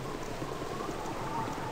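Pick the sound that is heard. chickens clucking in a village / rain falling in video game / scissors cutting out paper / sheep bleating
rain falling in video game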